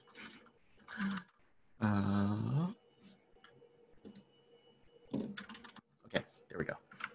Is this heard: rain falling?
no